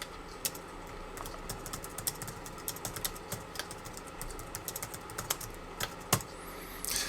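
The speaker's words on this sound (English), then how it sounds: "Oh, I can't type." Fingers typing on a computer keyboard, a quick, uneven patter of light clicks and taps close by and fairly quiet, with no talking over it.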